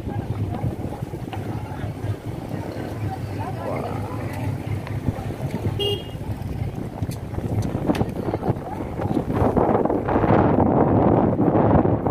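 Passenger ferry Cantika Lestari 9E at Larantuka harbour, with a steady low engine rumble and water wash under wind buffeting, growing louder toward the end, with faint voices in the background.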